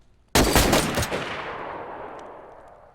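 A firing squad fires a single ceremonial rifle volley outdoors, one sharp loud crack made of a few near-simultaneous shots, followed by a long, fading echo.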